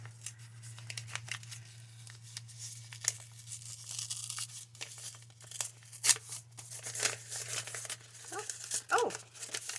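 An envelope is torn open by hand in a craft studio, with several quick ripping and crinkling bursts of paper close up over a low steady hum.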